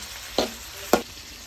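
Chow mein frying in a pan: a steady close sizzle with two sharp scraping stir strokes cutting through it, no voices.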